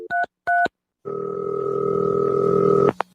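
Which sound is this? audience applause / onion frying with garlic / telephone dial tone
telephone dial tone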